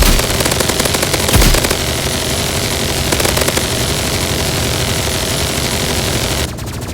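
A minigun fires nonstop in the Roblox game Rivals, a loud, dense, rapid stream of shots that runs for several seconds before cutting off abruptly near the end.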